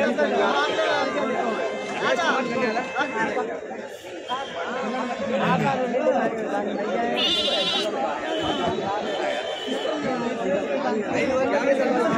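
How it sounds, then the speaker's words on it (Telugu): Goats bleating amid the steady chatter of a crowded livestock market at Kadiri, with repeated bleats rising above the constant murmur of people talking throughout. "ఈ మేకకి 2 పిల్లలు పుట్టినాయి"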